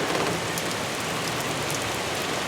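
Heavy rainstorm pouring steadily outdoors in February 2025, a dense, loud, continuous hiss of rain beating on surfaces with no breaks and no voices.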